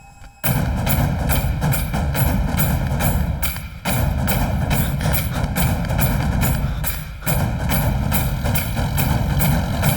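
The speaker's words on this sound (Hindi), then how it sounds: "ट्रैक्टर रोक। रोक ट्रैक्टर।" A tractor engine runs steadily at a low idle, loud and close, with a heavy rhythmic chug that briefly dips twice before picking up again.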